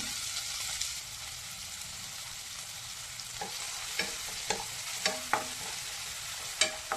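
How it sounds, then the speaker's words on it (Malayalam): Chopped green chili and tomato frying for egg bhurji, a steady soft sizzle with sharper spoon scrapes and taps against the pan coming in during the second half, close, with no talking. "തക്കാളി കൂടി ഇട്ട് നന്നായി ഇളക്കി കൊടുക്കുക"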